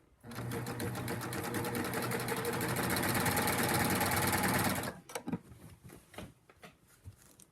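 A sewing machine stitches binding onto a fabric bag in one steady, loud, close run of about four seconds, then stops, leaving brief clicks and handling noises.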